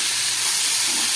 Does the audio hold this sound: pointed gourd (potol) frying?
yes